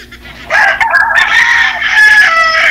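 A single loud, close rooster crow that rises and holds for about two seconds.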